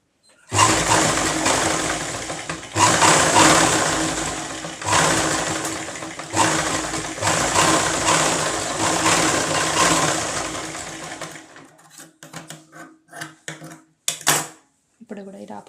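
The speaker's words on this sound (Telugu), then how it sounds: "ఈ విధంగా స్టిచ్చింగ్ అనేది చేయాలి" A sewing machine stitches a cut hand sleeve design in several loud, rapid bursts of whirring that stop and start again. Short clicks and handling noises follow as the run ends.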